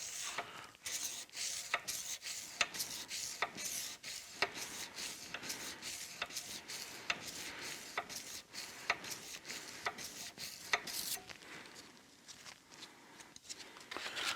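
Abrasive strips rasp along the steel blade of a buster sword in long, full hand strokes, a quiet, steady series of scraping sweeps close up with no voices.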